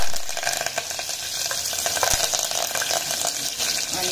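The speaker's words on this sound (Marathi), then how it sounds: "आता याच्यामध्ये राई टाकली मी, जिरं टाकलं आणि हिरव्या मिरच्या, कढीपत्ता" Mustard seeds, cumin, green chillies and curry leaves crackle loudly in hot oil for an eggplant curry. A steady close sizzle runs throughout with faint stirring. Nobody speaks.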